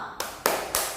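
Three sharp hand claps spaced evenly about a quarter second apart, close and crisp, keeping a steady beat for a children's farm-animal clapping chant in a classroom.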